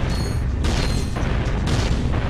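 Vaporizer weapon blasts in Ratchet & Clank: Going Commando, loud dense booming bursts stacked back to back, with heavy low rumble and sharp broadband surges roughly every half second.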